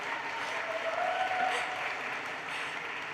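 A graduation ceremony audience applauds and cheers, a dense, sustained wash of clapping with some whoops that holds steady for a few seconds, heard alone without talk.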